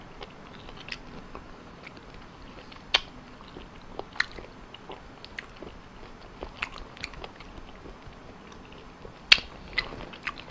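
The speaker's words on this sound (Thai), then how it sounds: "ต้องเคี้ยวให้ดี" Raw fresh squid and sea snails being chewed close up, with irregular moist bites and sharp crunchy snaps scattered over a quiet background.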